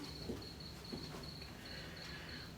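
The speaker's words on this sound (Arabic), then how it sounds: "سامعين صوت صرصار الليل في البلكونه" A cricket chirps on a balcony at night, a faint, steady high-pitched trill repeating in short regular pulses over a quiet background hiss, with no talking.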